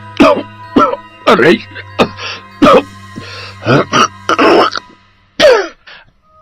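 An old man coughs again and again in harsh, rasping bursts with throat-clearing hacks between them. The bursts come close and loud over a low steady hum, and he groans once between the coughs.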